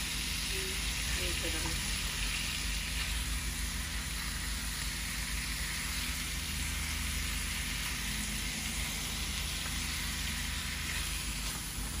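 Fish curry sautés in a pan with a loud, unbroken hissing sizzle that holds steady throughout and has only faint stirring underneath.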